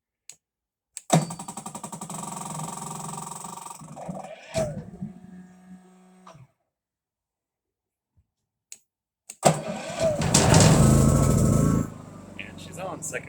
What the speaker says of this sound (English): And she's on, second crank. On and running. Nice and quiet.